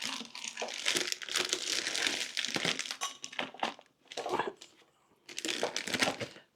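A plastic piping bag crinkles close up as its top is folded over, giving several bursts of crisp rustling split by short quiet pauses, with no one speaking.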